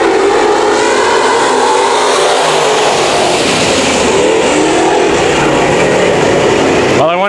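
A pack of hobby stock race cars roars off at the start of a heat race on a Bakersfield Speedway oval, loud sustained engine revving and acceleration filling the whole stretch, with crowd and commentary noise blended underneath.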